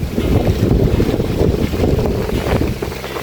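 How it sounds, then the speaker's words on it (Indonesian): Strong, loud wind roars steadily across a mountain slope above a village as an overcast sky threatens rain, buffeting the microphone with constant low rumble and no voices. "ada anginnya lur, lumayan kencang dari atas sini ya tuh"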